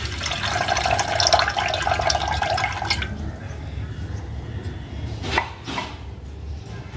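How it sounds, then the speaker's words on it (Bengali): Water poured from above into an orchid fertilizer mixture splashes steadily for about three seconds, then falls quiet with a few faint knocks and light clinks. "আমার হাতের কাছে এই মুহূর্তে ছাঁকনি নেই, তাই উপর থেকে জলটা আমি দিয়ে দিচ্ছি, এর সাথে মিশিয়ে নিতে হবে।"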